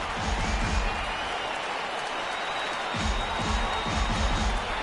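A stadium crowd of over 39,000 in MLB The Show 18 roars in a broad, steady wash of cheering during a Cubs–Dodgers game with the Cubs down to their final strike; low thumping pulses rise beneath it.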